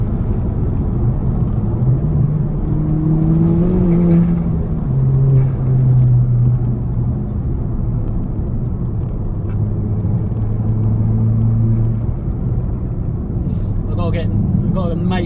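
Ford Fiesta ST with a Stage 4 Revo turbo setup driving on damp, dewy roads, a steady engine drone and tyre rumble running throughout with gear changes shifting the pitch, heard under someone talking.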